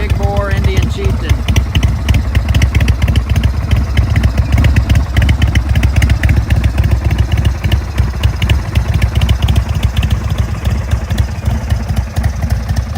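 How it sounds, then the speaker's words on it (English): Indian Chieftain motorcycle with a 116 big bore engine and 21-inch fat tire running, a loud, steady, close throbbing rumble with fast mechanical pulses throughout and a brief tone sweep at the start. "21-inch fat tire, 116 big bore Indian Chieftain."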